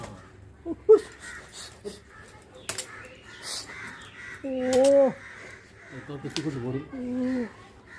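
A crow caws several times near a house, harsh calls standing out amid other birds, with people talking throughout.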